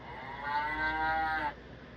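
A sound toy plays a sustained electronic cow moo lasting about a second and a half, tonal and buzzy, moderately quiet, with no talking over it.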